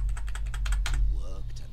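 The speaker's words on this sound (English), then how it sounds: "let's play a little game that I like to call Which Key on the Keyboard Skips Cutscenes?" Computer keyboard keys pressed in a quick run of close, crisp clicks and taps, with a faint voice briefly murmuring near the end over a low steady hum.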